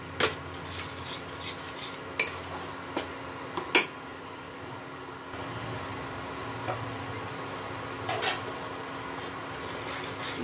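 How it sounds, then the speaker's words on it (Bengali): A spatula stirs cashew masala in a pan, producing scattered scraping and clinking strokes against the metal over a low steady background, close by and fairly quiet, with no talking. "এটা খুন্তি দিয়ে খুব ভালো মতো নাড়াতে হবে, নয়তো না কাজুটা ছিটে আসতে পারে গায়ে।"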